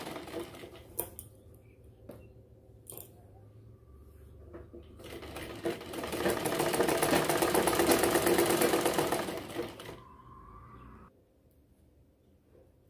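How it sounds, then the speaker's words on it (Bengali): A sewing machine stitches the side seam of a kameez: a few short clattering bursts, then a loud, steady run of needle strokes for about four seconds before it stops. "দেখো, আমি সেলাইটা করে এখান পর্যন্ত নিয়ে আসব।"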